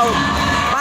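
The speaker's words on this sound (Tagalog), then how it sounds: "Nabuhay na naman ang crowd para sa Central Luzon Patriots." A crowd cheers loudly at a volleyball championship game in the Palarong Pambansa, with dense shouting and whooping filling the short moment.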